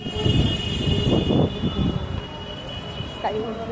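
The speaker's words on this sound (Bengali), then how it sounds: "এই যাচ্ছি মেট্রো করে।" A metro train runs toward Dakshineswar with a low, continuous rumble of the carriage under nearby talk.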